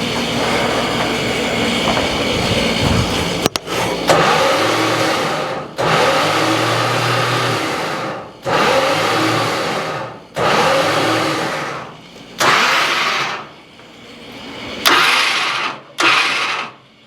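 A 1969 Dodge Charger engine cranking over and over, roughly seven bursts of loud, rough starter churning separated by short pauses, never catching, close and loud.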